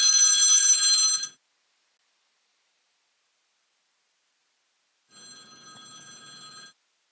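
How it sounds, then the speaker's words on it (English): A phone rings in two separate electronic trilling bursts, loud and close, with silence in between. "My phone is ringing."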